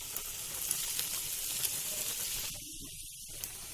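Bara fritters deep frying in hot oil, a steady close sizzle and hiss with small popping crackles throughout, no voices.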